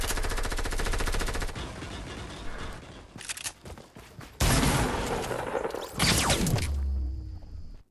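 Rapid bursts of submachine gun fire in the video game Fortnite Battle Royale, loud and close, in long rattling strings broken by short pauses and a sharp whoosh, with no talking.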